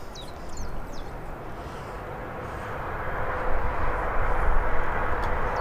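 A fixed-wing aircraft at Birmingham airport rumbles in the distance, a broad roar that swells gradually and grows louder toward the end, with faint bird chirps above it and no talking.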